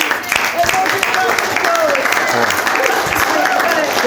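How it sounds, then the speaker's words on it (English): Wedding guests at Styal Lodge in Cheshire give a round of applause, a dense, continuous wash of clapping with voices speaking loudly over it throughout. "Everyone give a round of applause."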